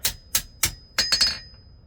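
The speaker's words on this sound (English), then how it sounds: "take a little tiny hammer" A small hammer taps a forged metal leaf, six bright metallic clinks close up: three evenly spaced strikes, then a quicker cluster of three, each ringing briefly in an otherwise quiet space.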